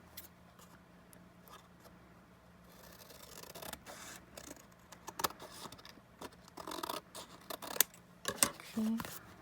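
Scissors trim a cut-out calendar picture with a series of close snipping and crisp paper-cutting sounds that grow busier toward the end, while a person talks softly in the background.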